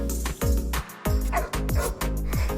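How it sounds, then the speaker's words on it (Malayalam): Dogs at a veterinary hospital let out a quick series of about five sharp, close barks and yips, each cut off by short pauses. "അതുപോലെ തന്നെ ഒരുപാട് ഡോഗ്സ് ഉണ്ടായിരുന്നു"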